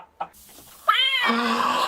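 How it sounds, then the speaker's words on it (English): A kitten lets out a single loud, drawn-out meow after a short faint chirp, the cry sliding down in pitch and close to the listener, with no talk over it. "Kittens."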